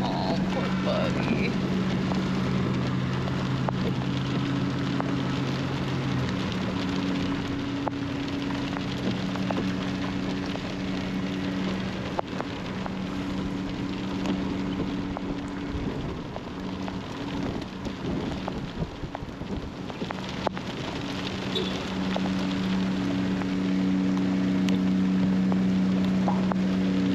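Steady rain falls outdoors in Mineral Wells, Texas, a continuous close hiss of drizzle pattering on surfaces with a low rumbling hum underneath throughout.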